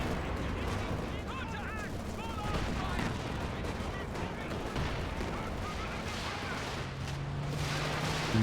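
Gunfire from a Company of Heroes 2 match: dense, continuous distant battle crackle with rapid shots and machine-gun bursts under a steady game soundscape, fairly faint.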